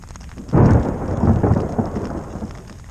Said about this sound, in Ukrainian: Вже починає хитати намет, злива посилюється.